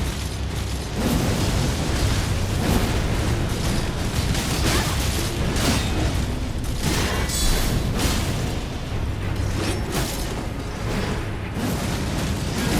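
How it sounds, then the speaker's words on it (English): In the video game Elden Ring, a loud, rumbling explosion rolls on for several seconds as a dense, sustained blast of noise with a few sharp bursts, alone with no talk. "About the explosion."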